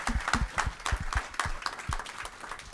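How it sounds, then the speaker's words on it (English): A room of credit union delegates gives a round of applause at a conference session, scattered claps with some low thumps, moderately close and steady throughout, no one speaking over it. "let's give a round of applause"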